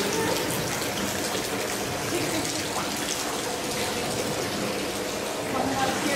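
Water flows steadily up through a drain tunnel, a continuous broad rushing wash that echoes in the enclosed space, with voices talking over it.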